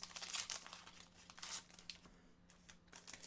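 Trading card packs from a hobby box are ripped open up close, giving faint crinkling foil and short tearing bursts with brief pauses between them over a low steady hum.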